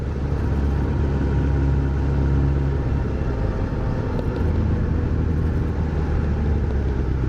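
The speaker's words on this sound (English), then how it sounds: "My bike sounds like it's got no fucking oil in it." A Suzuki Bandit motorcycle engine runs steadily with a loud, continuous low rumble and a slightly rough, rattly tone, as if short of oil, with no talk over it.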